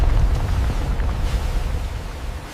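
A deep, roaring blast from a direct hit on a World War II warship, a loud sustained rumble of low noise that slowly fades.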